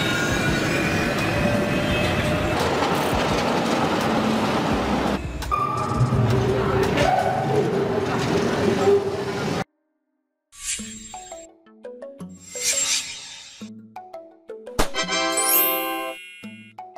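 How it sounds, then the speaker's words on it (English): A suspended railway train runs hanging beneath its track, first as a loud steady rolling roar with metallic squeals, then after a sudden cut, scattered clanks, rattles and bright ringing dings. "This train travels while suspended from the track rather than running on the ground"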